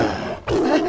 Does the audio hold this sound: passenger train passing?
no